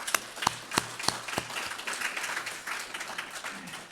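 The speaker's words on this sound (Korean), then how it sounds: "우리 감사의 박수 한번 뜨겁게" Scattered, uneven handclaps from a church congregation, a few sharp claps standing out over a thin, light patter that continues throughout.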